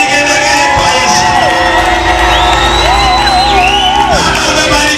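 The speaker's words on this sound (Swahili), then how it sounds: "wapi shangwe nzuri na vigelegele kwa Yesu" A church crowd at an all-night gospel praise vigil cheers loudly, with warbling, high ululation rising above a continuous roar of shouts and whoops, close and dense throughout.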